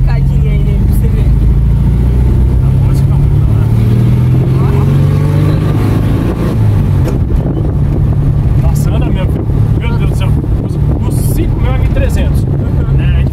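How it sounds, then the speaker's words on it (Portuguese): Volkswagen Beetle engine pulling hard under acceleration, a loud, continuous low drone with a faint rising whistle, heard from inside the car over heavy wind noise while people talk. "Ele faz até uma assobiada ali conforme você pisa no acelerador."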